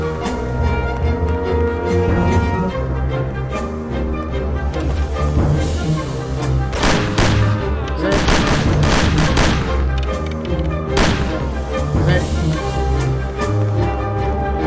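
Gunshots in the Mafia video game crack out in irregular bursts and single sharp reports over a steady background of music, loud and close.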